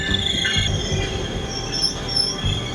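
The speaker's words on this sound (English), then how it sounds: "And that's my train." A SMART commuter train pulls in, its wheels squealing in steady high-pitched tones over the low rumble of the rolling cars, close and loud, with no voices.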